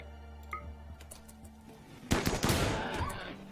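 Gunfire in RimWorld as colonists shoot at a bear: quiet clicks at first, then a loud burst of rapid shots near the end.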